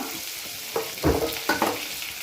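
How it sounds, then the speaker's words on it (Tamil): Dried red chillies sizzle in hot oil for a tempering for black kavuni rice kara paniyaram, with a steady frying hiss and a few louder crackling bursts, close and alone without speech. "நம்ம கவுனி அரிசி இதுவுக்கு கார பணியாரத்துக்கு தேவையான தாளிப்பு ஒரு 2 காஞ்ச மிளகா"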